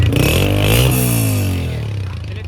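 A 2025 Honda motorcycle engine runs close by, rising in a quick rev and easing back to a steady, loud idle with a faint mechanical clatter.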